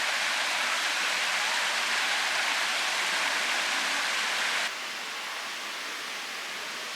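A small waterfall at a beach resort on Koh Samui pours steadily, a close, even hiss of falling water that continues unbroken, dropping abruptly in level near the end.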